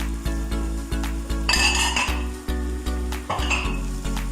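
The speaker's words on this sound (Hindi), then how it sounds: "साथ ही टमाटर डाल देते हैं, साथ ही चिकन डाल देते हैं, साथ ही इसमें आलू डाल देंगे" Tomatoes, chicken and potatoes drop into a hot pan for a chicken vegetable roll filling. Two bursts of sizzling and clattering rise over a steady, pulsing background hum.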